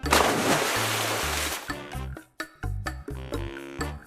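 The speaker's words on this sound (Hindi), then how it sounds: "कहकर पानी में कूदा।" A person jumps into a swimming pool: a burst of splashing and sloshing water, then choppy bursts of gurgling and lapping as the water settles, close and fairly loud with no talk.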